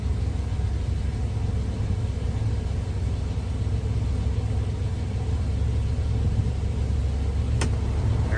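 A 1985 Chevrolet K20 four-wheel-drive pickup idles steadily after starting, a continuous low rumble held at an even level throughout, with a faint radio in the background.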